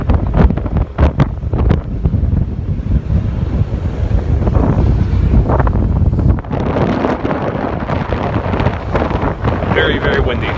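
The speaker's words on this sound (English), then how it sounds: "Very, very windy." Strong wind buffets the microphone on a ferry ride past Roosevelt Island and Manhattan, with loud gusty rumbling and the wash of waves and boat noise, briefly interrupted by bursts of speech.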